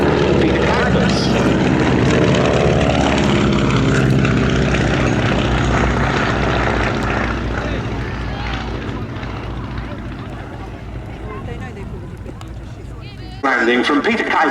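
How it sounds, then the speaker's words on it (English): Beechcraft Staggerwing biplane with a radial-engine propeller landing at a summer air show at Duxford, a loud, steady engine drone close by that eases slightly as it passes, with commentary voice over it. "Landing from Peter Kuipers in his own Staggerwing"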